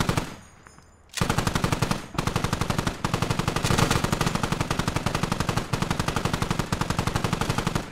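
Rapid machine gun fire in a video game battle at an airport between Russian and American forces: after a second of quiet, a loud, close, sustained stream of shots with tiny breaks, no voices.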